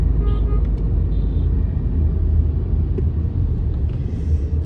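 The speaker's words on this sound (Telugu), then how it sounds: "ఫుల్ ట్రాఫిక్ ఉంది" Heavy early-morning road traffic rumbles continuously around a vehicle at school and office rush hour, a loud low drone with faint brake hisses and horn-like tones now and then.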